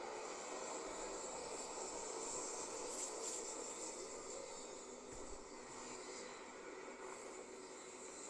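Spaceship landing at Sidonia on Mars in Starfield, a steady, fairly quiet engine roar and whine with a low thump midway, continuous and without talk.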